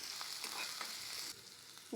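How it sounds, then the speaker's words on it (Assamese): Finely chopped onion fries in hot oil in a wok, a soft, close sizzle with a few quick stirring scrapes, fairly quiet and steady for about two seconds. "এতিয়া দিম ইয়াতে পিঁয়াজ, এটা ডাঙৰ পিঁয়াজ সৰু মিহি মিহিকৈ কাটি লৈছোঁ।"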